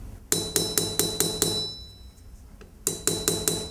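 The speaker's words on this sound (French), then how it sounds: "je fais un matage pour faire un rivetage arrondi, ce qu'on appelle le chapeau chinois" Hand hammer peening a rounded, domed rivet on a traditional Basque folding knife, producing a quick series of sharp metallic strikes, a short pause, then another rapid burst of blows, close and fairly loud.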